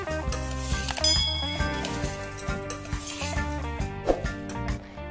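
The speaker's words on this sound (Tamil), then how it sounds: "இப்போ இதில் பொரியையும் சேர்த்து மிக்ஸ் பண்ணி விட்டுருங்க" Puffed rice is tossed with coriander, fried chana dal and spicy boondi, giving scattered clinks and light rustling stirs in a pan, all under loud background music.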